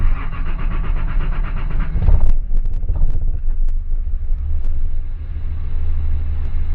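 A Datsun 280Z engine idles with a steady low rumble, then revs up sharply around the two-second mark before settling back into a continuous running drone, close and fairly loud with some wind buffeting.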